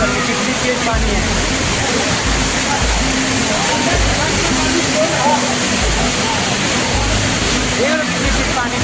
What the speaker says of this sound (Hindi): बहुत ही तेज पानी बह रहा है